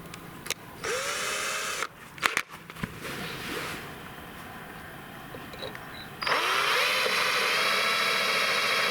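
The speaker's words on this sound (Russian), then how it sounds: "Так что сейчас делаем сначала верхнее отверстие, потом центральное под гофру" A power drill bores holes in an MZSA Kompakt 81771C trailer to fit extra marker lights. A short whining burst comes first, then handling knocks, then a longer, louder steady drilling run close by.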